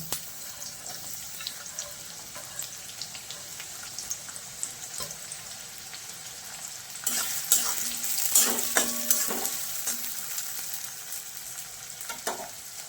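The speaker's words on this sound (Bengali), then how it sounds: "তেল গরম হয়ে গেছে, কুচনো পেঁয়াজ দিয়ে দিলাম।" Two medium chopped onions hitting hot mustard oil, a steady crackling sizzle that swells louder partway through with stirring scrapes and clinks, no voices.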